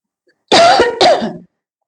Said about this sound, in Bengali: হঠাৎ করেই আমার কাশি আসছে